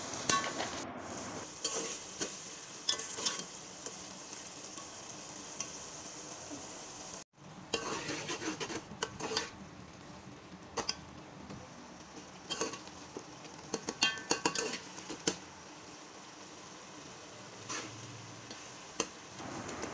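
A spoon stirs tomato masala with yogurt frying in oil in a pan, steady soft sizzling under repeated scraping and tapping against the pan, close and fairly quiet.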